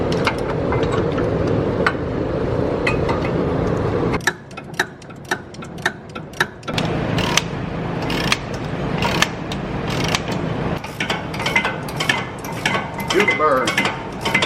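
Ratchet snugging the brake caliper bolts on a BMW E39 M5 during a StopTech brake upgrade, a run of quick sharp clicks in bursts close by over a low workshop hum.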